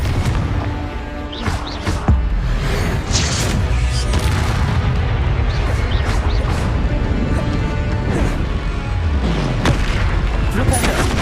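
Confringo fire spells blasting in Hogwarts Legacy, a dense run of loud booming explosions and crashing impacts repeating every second or so over continuous game sound, with a voice talking through it.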